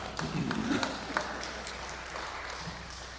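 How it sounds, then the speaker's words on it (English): Scattered clapping from a small audience at a talk on hearing loss and relationships, faint and brief, with some talking underneath. "You can clap, you're obviously from Newfoundland."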